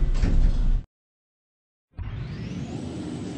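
Sliding lift doors closing in the Roblox video game, a steady whooshing slide that cuts to silence, then a second continuous mechanical rush resumes, fairly loud with no talking.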